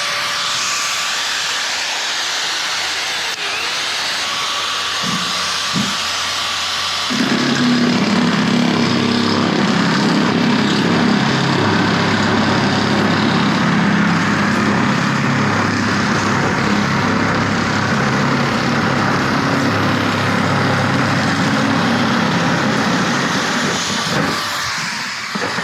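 A nibbler power tool whirs, then bites into corrugated metal with a loud, steady grinding buzz that runs on continuously, close up.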